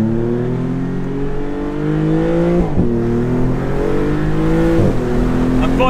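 Maserati MC20 Cielo supercar engine accelerating hard under open roof, rising revs with two sharp gear changes, loud and close, steady engine drone throughout.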